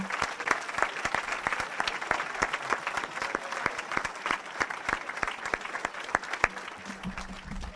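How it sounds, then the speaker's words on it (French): A church congregation breaks into sustained applause, dense overlapping claps filling the room with a few sharper hand strikes standing out, steady and fairly loud throughout. "Ah, on peut l'acclamer, hein?"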